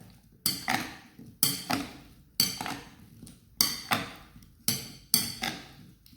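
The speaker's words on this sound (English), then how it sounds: "So now we're going to mix the fruit salad together" A spoon knocks and scrapes around a bowl of fruit salad in five or six evenly spaced strokes. Each stroke is a sharp clink that tails off quickly, close up, with no talking.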